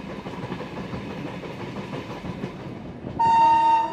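Train on the Indian railway line heading toward the Himalayan foothills, with a steady low rumble and rattle of the carriages from on board, then a loud horn blast near the end.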